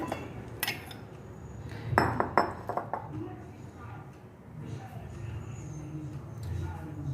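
Medium-sized sweet papaya pieces drop into a mixer jar with a few sharp clinks and knocks around the middle, over steady background kitchen noise and someone speaking.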